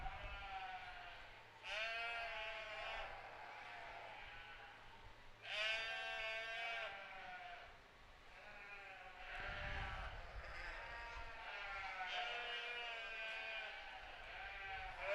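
Sheep at a county fair show ring bleat repeatedly, several long wavering calls spread over the stretch, fairly close, over a low hall murmur.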